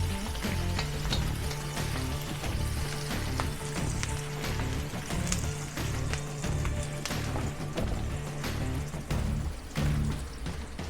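Garlic sautés in a hot pan, producing a dense, continuous sizzle and crackle with scattered sharp pops and occasional utensil clicks, close and steady throughout.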